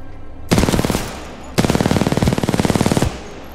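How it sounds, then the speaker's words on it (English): Automatic gunfire in the video game Titanfall 2, two loud, rapid bursts of rhythmic shots, the first short and the second lasting about a second and a half, close and dominant. "Oh, guns."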